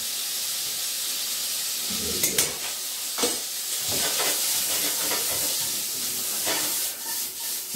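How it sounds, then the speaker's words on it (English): Diced pancetta sizzles and hisses steadily in a hot frying pan, with a few scraping stirs and clatters of the utensil breaking through the continuous frying. "Keep your bacon moving, make sure it doesn't stick to the bottom of the pan."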